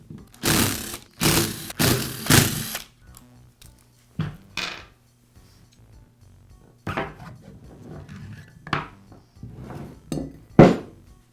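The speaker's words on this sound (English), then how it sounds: "Now remove the four screws that secure the upper housing to the lower." Screws are taken out of the upper housing of a Porter Cable router, with scattered metallic clinks, scrapes and taps of tools and parts at close range, plus a few louder rattling handling noises early on.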